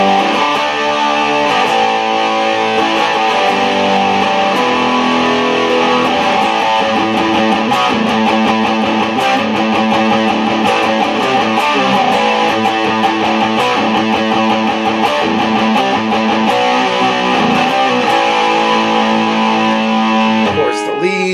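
A Gibson Firebird electric guitar played loud on its bridge pickup with a cranked, overdriven tone, strummed chords and riffs ringing continuously and dense throughout at steady high volume with no talk.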